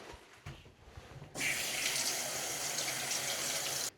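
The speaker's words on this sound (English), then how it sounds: "Let's wash it so we get the dirt out of there" Pak choy rinsed under a running kitchen tap, a steady loud rush of water starting abruptly after a quieter moment and continuing to the end.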